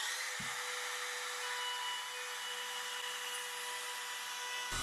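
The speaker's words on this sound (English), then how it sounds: "We just keep lowering the cutter until we get through it." A router cutter bites through a wooden cutting board as it is lowered, giving a continuous high whine with steady cutting noise and a sharp thump near the start.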